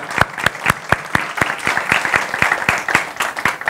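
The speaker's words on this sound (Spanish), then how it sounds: "Yo quiero que le demos un aplauso a Abraham y a su equipo de música." An audience claps for Abraham and his music team, a fast steady run of sharp hand claps that holds at full volume through the whole stretch, with no talk over it.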